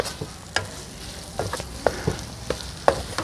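Masala potatoes being stirred and tossed in a pan at an outdoor garden cooking spot, the spoon scraping in quick irregular strokes over a steady soft frying sizzle.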